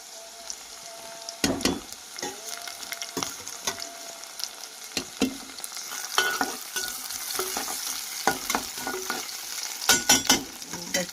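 Sliced onions and green chillies fry in a pan with a low sizzle while a spatula scrapes and stirs in repeated sharp strokes, close up and without talk.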